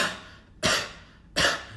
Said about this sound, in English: if you try to forcefully cough, you're creating the same constriction